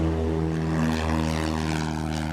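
A propeller airplane at Crystal Airport holds a steady, humming engine drone, loud and close, with a slight buzzing rasp throughout and nothing else audible.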